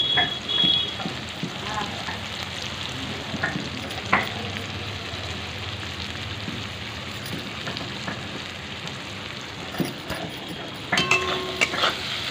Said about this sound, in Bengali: তেলটা গরম হয়ে গেছে, সেখানে পেঁয়াজটা ছেড়ে দিলাম